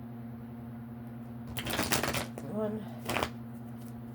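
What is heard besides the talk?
shuffling tarot cards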